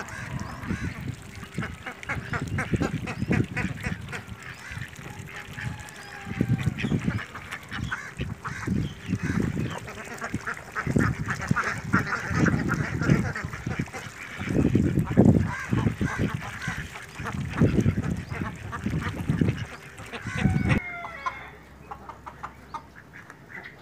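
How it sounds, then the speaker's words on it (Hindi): Ducks quacking at a natural farm pond in Karachi, a loud, repeated chorus of honking quacks in rhythmic bursts close by, continuing for most of the time before cutting off near the end. "ताकि बतख जो है इसमें बहुत खुश रहते हैं"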